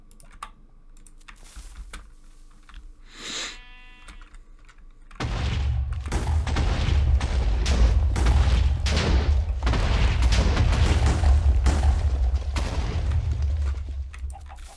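Explosions blowing up a huge map in Minecraft: after quiet keyboard typing and a brief tone, a dense, sustained roar of repeated blasts sets in and rumbles continuously at high level.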